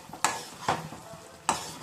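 Gongura egg curry being gently stirred in a pan over a high flame: three soft scraping strokes of a spoon at an unhurried pace, with a low sizzle of the cooking curry underneath and no talking.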